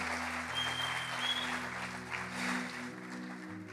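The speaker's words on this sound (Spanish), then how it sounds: "Si le va a dar un fuerte aplauso al Señor, déselo a Él" Congregation applauding during a church service, a steady, dense wash of clapping filling the space throughout, with sustained organ or keyboard tones held underneath.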